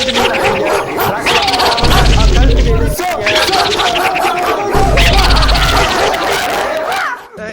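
Repeated loud booming blasts, like firecrackers going off in bursts, with excited voices and music running throughout.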